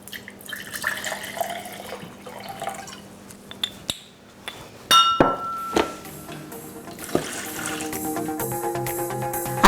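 White dry wine poured from a glass into a roasting pan holding a chicken, with liquid splashing amid clinks and knocks of glass and metal, close and moderately loud, no talk.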